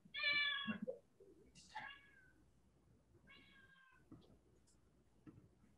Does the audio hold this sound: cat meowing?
yes